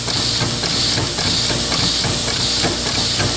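Small steam-driven engine with a flywheel running at a steady stroke: loud, continuous hissing steam with a fast, even mechanical pulse underneath, close and alone with no talking.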